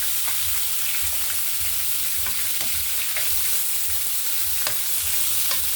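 Garlic and onion sautéing in a pan for chop suey, a constant close sizzle with occasional scraping clicks from stirring, steady and loud with no talk.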